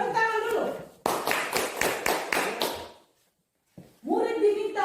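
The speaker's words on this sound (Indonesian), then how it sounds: "Baik, tepuk tangan dulu" Students at a school presentation clap in unison, about eight sharp, evenly spaced claps in a quick rhythm that stop abruptly. A short silence follows, and people speak before and after the clapping.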